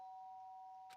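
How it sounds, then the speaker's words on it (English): Doorbell chime in the video game Danganronpa: Trigger Happy Havoc, a single clear sustained electronic tone ringing alone and quietly, cut off by a sharp burst at the end. "Sharp sound on the doorbell pierced my sleep and pulled me back to the real world."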